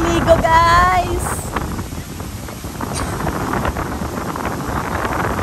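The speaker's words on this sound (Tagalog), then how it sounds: "Napakalakas ng hangin." Strong storm wind by the sea on Boracay, Philippines, buffets the microphone in a constant rough roar, with a brief burst of voice at the start.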